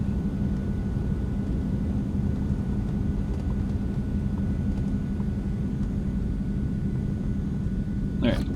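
An Eclipse 550 business jet rolls out after touchdown in the X-Plane 11 flight simulator, a steady engine rumble and whine continuing at an even level with a faint tonal hum, a voice speaking over it.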